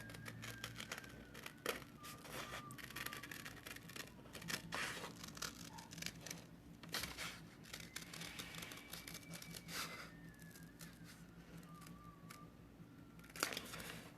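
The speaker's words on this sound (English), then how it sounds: "Now I'm going to take my paper scissors and cut that out." Paper scissors cutting out a paper pattern during a sewing craft session, faint close snips and crisp crinkling rustles in irregular bursts over a quiet room hum, with no talking.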